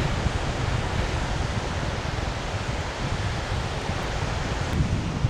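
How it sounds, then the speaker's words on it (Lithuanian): Strong wind blows in off the sea along a wild coastline in Latvia, making a constant, dense roar with low buffeting rumble and no voices, steady across the whole stretch. "Labai vėjuota, nuo jūros vėjas labai pučia."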